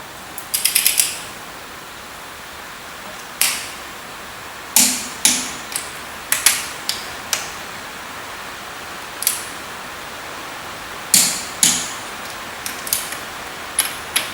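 A torque wrench ratchets while bolts are tightened on a Ferguson TEA tractor. Short bursts of crisp metallic clicks come at irregular intervals, close and clear, with no talking.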